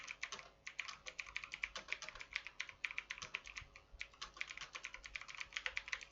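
Rapid, continuous typing on a computer keyboard while a resume is written in WordPad: dense clicking keystrokes in quick bursts with brief pauses, close and clear with no talking.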